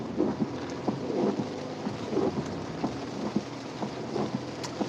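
Thunderstorm rolling in, with steady rain pattering on surfaces and repeated low rumbles of thunder through the whole stretch, under a constant wash of rainfall.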